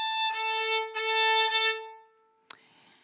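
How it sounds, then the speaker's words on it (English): Two A notes at 440 and 880 hertz sounding together an octave apart, restruck about three times in a row before fading, followed by a sharp click, with no voices. "If I play them together,"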